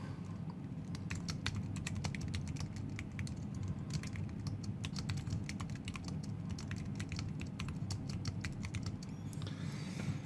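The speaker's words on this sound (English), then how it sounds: "I'm just gonna type a little bit so you get an idea of how loud the keys are." Steady, rapid typing on a Lenovo Professional Ultraslim wireless keyboard, soft light key taps clattering continuously over a low background hum, close up and fairly quiet.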